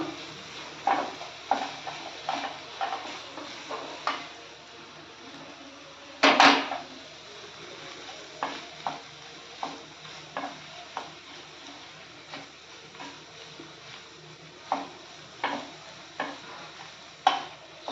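A capsicum and paneer samosa filling is stirred and mixed in a pan, with repeated light scrapes and taps of the spoon against the metal, one sharper clack partway through, over a soft sizzle.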